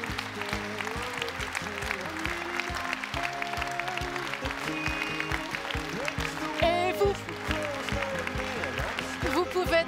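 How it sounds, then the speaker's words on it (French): Audience applause for a team at an evening launch event in Wallonia, scattered clapping running under prominent speech and backing music rather than standing alone. "Applaudissements pour cette équipe et pour ce nouvel élan."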